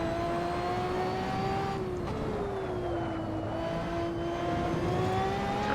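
A Ferrari 599xx Evo's engine in the Assetto Corsa racing game holds a steady, high-revving drone. The pitch dips and rises slightly as it shifts, and it runs loud and continuous throughout, with no voices.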